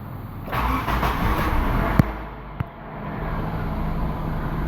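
Honda car engine starting with the coolant temperature sensor unplugged: an engine running steadily from the start, with a couple of sharp clicks partway through and a brief dip before the running sound carries on, no voices.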